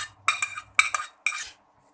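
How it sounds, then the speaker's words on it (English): Cooked beans being transferred into masala in a pan come through as three distinct bursts of metallic spoon scraping and clinking against the vessel, close up and separated by short pauses, with no voices. "Now I am transferring the cooked beans to this masala"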